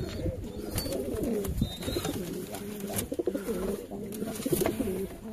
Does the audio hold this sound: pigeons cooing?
yes